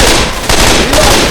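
Gunfire in the game Left 4 Dead 2: a short, loud burst of rapid automatic shots, dense and continuous with no pauses.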